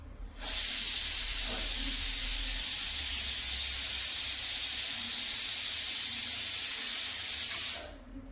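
A kitchen pressure cooker vents steam in one loud, steady hiss lasting about seven seconds, cutting in abruptly and stopping just as sharply, with faint low household rumble beneath.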